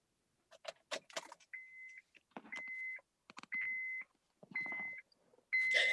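A car sounds a run of repeated electronic beeps, each one long and steady with short gaps between, mixed with jangling keys and handling clatter close by.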